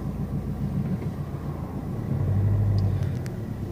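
Car engine during a hill start on a ramp, a low steady rumble that swells slightly as the throttle is applied, fairly close and continuous with no talk.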